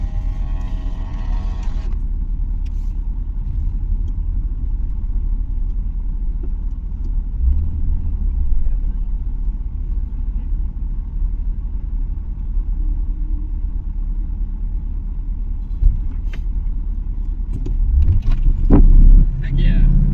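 A Land Rover Discovery driving, its engine a steady low rumble throughout, with louder engine and road noise building near the end.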